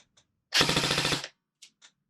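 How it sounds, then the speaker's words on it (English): A Krytac CRB airsoft rifle fires a short full-auto burst of roughly eight rapid, evenly spaced shots, loud and close, with faint clicks before and after. "Let's see what the rate of fire that we get out of this is."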